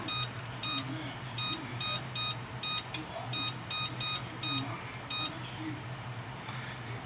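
An oven control panel being set to bake at 425 sounds short electronic beeps, repeated in an irregular series over a steady low hum, with faint kitchen noise and no clear talk.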